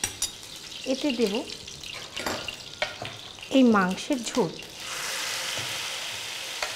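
Green chillies fry in mustard oil for tehari while being stirred with a spoon, giving intermittent scraping and sizzling under a woman's speech, then a steady close hiss at the end.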